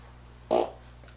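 A single short, low fart, fairly close and brief, stands out against a quiet room hum with no talking.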